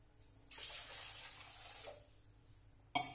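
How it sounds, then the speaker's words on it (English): Water pours steadily into a cooking pot in a nearby kitchen, a continuous splashing stream with a brief pause before a louder splash at the end. "Now I'm adding 2 cupfuls of water."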